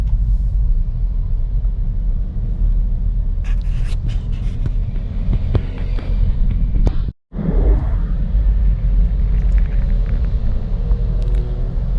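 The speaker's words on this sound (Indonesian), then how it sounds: "banyak sekali bis-bis yang lewat di pagi hari" Busy morning traffic with buses passing, heard from inside a moving Toyota Veloz CVT 2024, a steady low road rumble and engine drone broken by a brief dropout, with occasional passing vehicles.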